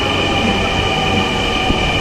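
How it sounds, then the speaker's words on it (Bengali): A metro train at Uttara Center station roars loudly and steadily as it pulls in, with a sustained rumble, high whine and a brief wheel squeal, close and unbroken. "মেট্রোর এই আওয়াজটা আমার খুব ভাল লাগে"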